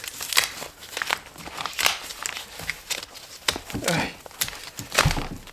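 Wide, very sticky 2-inch electrical tape gets peeled off a wire splice in a run of close crackling, crinkling rips and tugs, irregular bursts with short pauses between them.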